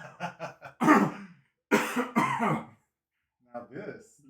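A voice coughs and clears his throat in several short rough bursts, close and fairly loud, with brief pauses between.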